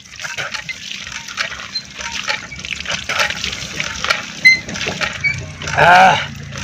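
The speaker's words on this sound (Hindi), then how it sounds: "हाँ ठंड है, मुंह धोए लियो चाचा" Cold water splashing as a man washes his face outdoors, with irregular trickles and splatters and one louder splash near the end, while men chat faintly in the background.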